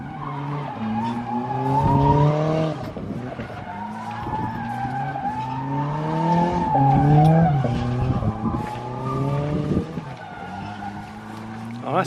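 A turbocharged Nissan 180SX drifts a figure eight, engine revving and falling in repeated sweeps as tires squeal long and loud, with short voices underneath.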